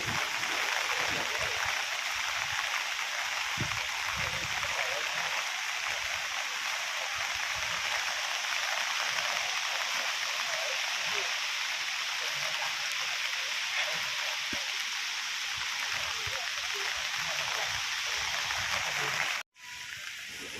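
Steady rain hisses down on a tent campsite in Thong Pha Phum National Park, Thailand, for the whole stretch, a dense broadband patter with small drops ticking close by, cutting off abruptly near the end.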